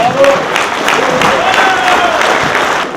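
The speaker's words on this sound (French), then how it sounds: "Je crois qu'on peut les applaudir." An audience applauds at the podium ceremony of a French snow-groomer driver championship, a dense continuous clatter of clapping with voices murmuring and calling out through it.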